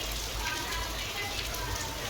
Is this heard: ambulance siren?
no